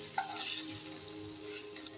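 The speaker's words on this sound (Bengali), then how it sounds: "তখন আমি মাছটা ভালো করে ভেজে নিই" Pieces of bele fish fry in oil with a steady, quiet sizzling hiss that holds evenly throughout, with one small pop near the start.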